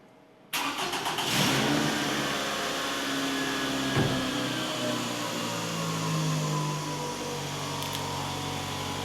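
A car with a weak battery, jump-boosted during an alternator replacement, cranks and catches after a moment of silence, then settles into a steady, close idle with a slight rev.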